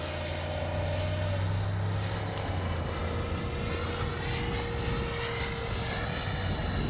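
An FMS 80mm F-86 Sabre RC model jet in Skyblazers markings flies overhead with a loud, high, steady ducted-fan whine that drops in pitch early on as it passes, then holds over a rushing roar.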